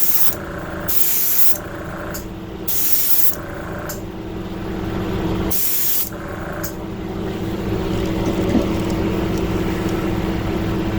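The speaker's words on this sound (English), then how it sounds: "spray the scales right here on the shoulder, towards the top" Several bursts of spray paint hiss onto a Wiggle Wart fishing lure, each a second or so long, separated by brief pauses, close up over a steady background hum.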